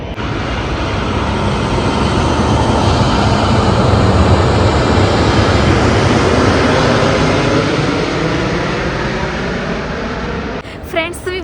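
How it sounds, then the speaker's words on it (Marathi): A low-flying airplane roars overhead in Dubai, a loud sustained engine rumble that swells and slowly fades, with a brief voice at the very end. "तुम्हाला आवाज येत पण असेल प्लेनचा."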